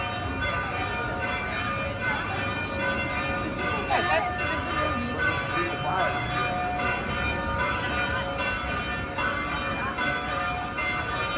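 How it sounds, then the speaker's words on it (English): Church bells ringing near Naples, a sustained metallic peal with repeated strikes over a long stretch, moderately distant beneath outdoor ambience with a voice talking at times. "I love to hear the bells."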